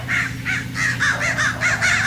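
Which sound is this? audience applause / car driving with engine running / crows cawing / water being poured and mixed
crows cawing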